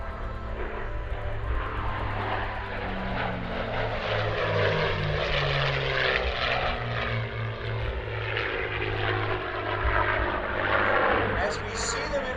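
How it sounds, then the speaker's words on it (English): Piston-engine P-51 Mustangs with Rolls-Royce engines fly by in formation at an air show, a droning propeller roar rising and fading at middle distance, with an announcer talking over it throughout. "the motors we were listening to, those Rolls-Royce motors, when the Brits put it on this Mustang"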